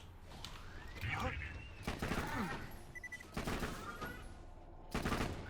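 Repeated bursts of gunfire from the buffed legendary Gub in Borderlands 2 crack out in quick clusters over busy game sounds, with someone talking throughout.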